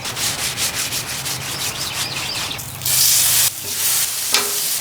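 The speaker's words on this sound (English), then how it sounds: "Always make sure to oil up that griddle surface first." Oil brushed and spread across a hot Char-Broil griddle before lamb loin chops go on, a close, steady rubbing and scraping hiss with rhythmic strokes at first, then a louder burst of sizzle as oil meets the hot surface.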